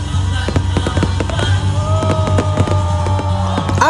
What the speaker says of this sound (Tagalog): Grabe ka nindot yun sa fireworks dahil si Jensen no?